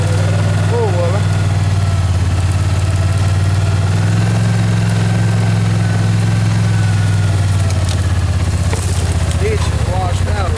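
A four-wheeler ATV engine runs steadily with a low droning hum right next to the mounted camera, a loud continuous rumble on a washed-out dirt road, with someone speaking over it at times.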